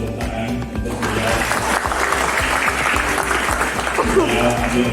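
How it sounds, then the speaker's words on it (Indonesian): Sustained audience clapping fills a hall at a PSI political party regional meeting in Jakarta, a dense, steady wash of many hands that continues without a break. "Tepuk tangan untuk beliau."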